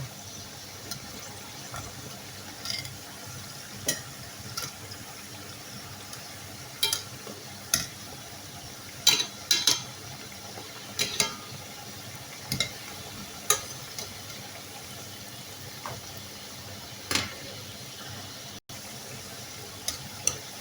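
Dough frying in oil sizzles with a soft steady hiss, punctuated by scattered clicks and light clatter of utensils.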